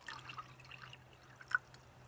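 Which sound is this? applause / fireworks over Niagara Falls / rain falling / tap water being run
tap water being run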